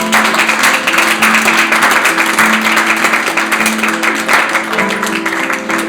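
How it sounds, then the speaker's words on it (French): Dense, loud applause fills a room at a personal development program's diploma ceremony, many hands clapping continuously and steadily throughout, with faint musical tones or murmurs underneath. "Je vais applaudir très fort."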